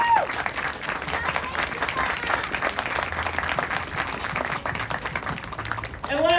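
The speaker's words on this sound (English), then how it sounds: "I want to ask you to give a round of applause to all of my colleagues in the Massachusetts legislature" An audience applauds Massachusetts legislators at a Legislator of the Year event, a dense, even round of clapping from a moderately distant crowd, tapering as a voice returns at the very end.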